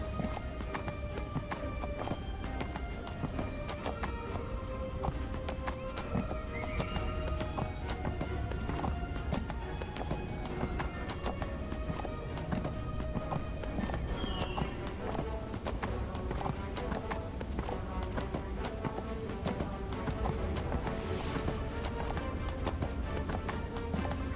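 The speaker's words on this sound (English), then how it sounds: "Ride up here on my horse, it's fine." Steady rapid hoofbeats of a galloping horse in Neverwinter with an occasional whinny, set over continuous game music and ambient sound.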